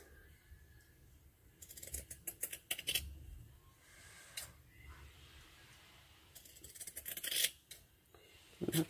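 Scissors trimming paper for a mixed media butterfly wall decoration, irregular snipping and rustling close by, with scattered clusters of cuts and handling noise between them.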